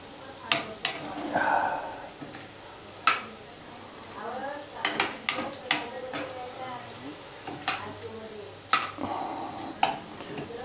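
Kothimbir vadi, coriander fritters, frying in a pan with about 15 ladles of oil, gives a low sizzle broken by repeated sharp clicks and scrapes of a utensil against the pan, while someone talks over it.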